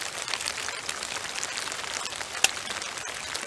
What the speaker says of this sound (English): Rain's starting to come down pretty heavy now.